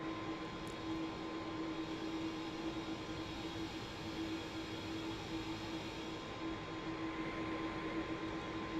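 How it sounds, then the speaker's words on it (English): A TFDI MD-11 airliner in Microsoft Flight Simulator hums with a steady, even engine drone and a constant tonal whine, moderately quiet and unchanging across the whole stretch. "Now, I am taking off on this runway."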